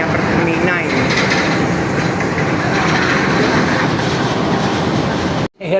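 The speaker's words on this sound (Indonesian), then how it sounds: "Keretanya Pertamina ini." A Pertamina fuel tanker train rolling past close by, a loud continuous rumble with rhythmic clickety-clack of wheels over rail joints that cuts off abruptly near the end.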